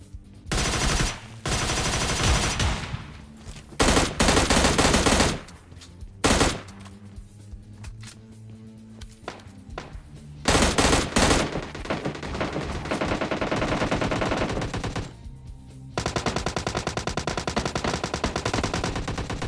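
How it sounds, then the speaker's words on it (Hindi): Gunfire in the mobile shooter PUBG Lite, loud sharp shots in rapid bursts and longer automatic strings, some nearer and some farther off, with steady game sound between them. "बस सिर्फ गन शॉट की आवाज आती है"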